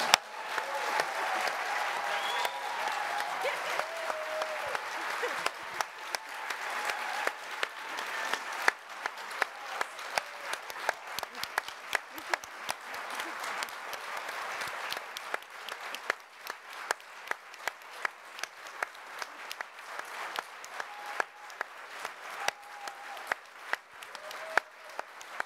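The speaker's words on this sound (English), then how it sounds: "Can we just give this team a round of applause?" An audience at a Tails & Cocktails event applauds a team with sustained, dense clapping that thins into scattered, sharper individual claps toward the end.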